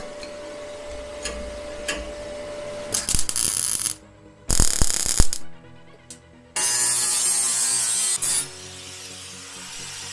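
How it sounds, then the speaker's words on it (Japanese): Welding a steel frame for a Toyota AE86 restoration, with bursts of steady harsh buzzing crackle from the welder separated by short pauses, close and loud against a quieter workshop background. "こっちを先に溶接したいと思います。"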